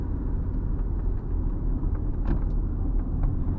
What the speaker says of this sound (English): The engine is very silenced.